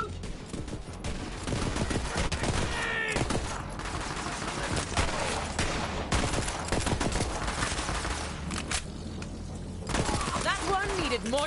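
Near-continuous gunfire fills a Borderlands 3 firefight, rapid bursts and volleys layered under shouting voices, loud and dense throughout.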